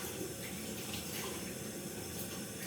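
Cold water runs steadily from a tap over a wig being washed in a sink, a constant close hiss and splash with no voices.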